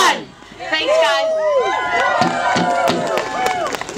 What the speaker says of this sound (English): Somebody had to do a cheer.